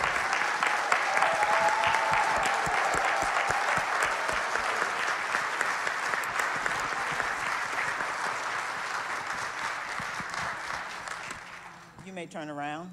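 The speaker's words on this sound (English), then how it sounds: "Give them a round of applause." An audience at a deacon ordination service breaks into sustained applause, a dense wash of clapping that fades out at the end as a voice begins speaking.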